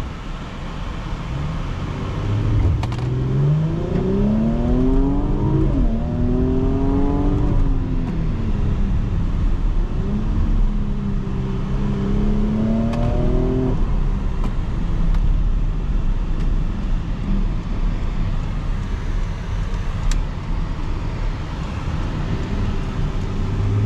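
2020 Porsche Cayenne Coupe S launching from launch control, engine revs climbing through several gear changes in rising sweeps, loud and steady from inside the cabin with no voices.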